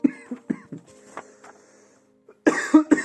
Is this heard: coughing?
yes